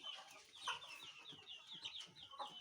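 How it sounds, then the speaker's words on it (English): Broiler chickens on a poultry farm clucking and chirping in a busy, overlapping chorus, a dense flock sound heard fairly close with no talking. "our new stocks of broiler birds"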